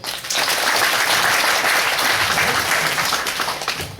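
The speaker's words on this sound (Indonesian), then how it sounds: "Aplaus dulu." Audience applause at a mall anniversary ceremony speech in Amlapura, Bali, a dense sustained round of clapping from a crowd lasting about four seconds, fairly loud and even.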